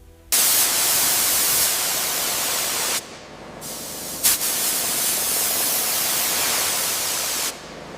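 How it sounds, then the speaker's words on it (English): A precision spray system coats delicate aluminum parts of an 85-year-old Zeppelin engine: a steady, close, loud hiss of spray in long continuous bursts, with brief drops and a short pause before it resumes. "This precision spray system allows us to evenly coat the delicate aluminum without disturbing the"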